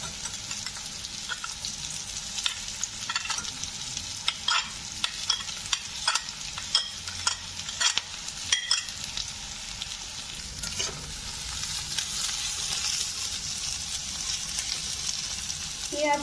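Boiled potatoes, onion, salt and turmeric sizzle steadily in a frying pan, with a spatula scraping and tapping at an irregular rhythm over a constant, moderately loud frying hiss.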